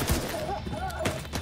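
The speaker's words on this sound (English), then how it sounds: "Literally, I'm being shot at." Gunfire in the shooter game The Division 2: a quick cluster of sharp shots, close and loud, with a burst at the start and another near the end, laid over game sounds and brief voices.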